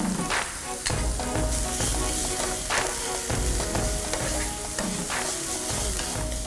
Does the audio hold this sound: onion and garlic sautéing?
yes